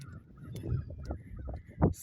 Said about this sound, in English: Sound like the crows are out.